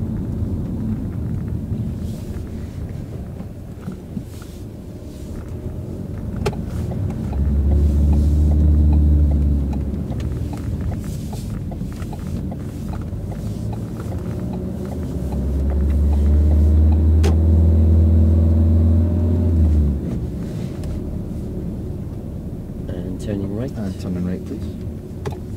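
Engine of a car with a manual gearbox doing a turn in the road during a driving lesson, a steady idle rumble that swells twice into longer, louder revving as the car pulls away, with people talking over it.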